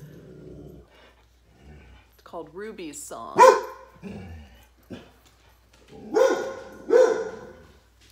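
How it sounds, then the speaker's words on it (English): A dog barks and growls in a few sharp bursts close by while someone talks about yarn over it. "sorry for the dog"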